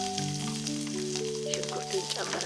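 Sliced onion sizzling in a thin frying pan over low heat for a fish goulash sauce, a steady close crackle with stirring, while a faint tonal hum runs underneath.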